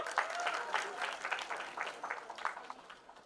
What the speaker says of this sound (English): can we have a big round of applause for Satyaraj sir?